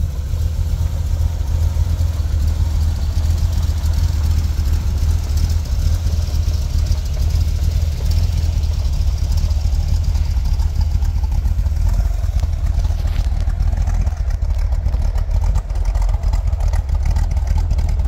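A 1971 Chevrolet Corvette Stingray with a freshly rebuilt carburetor idles steadily, its deep, even engine rumble close and continuous with no talk over it.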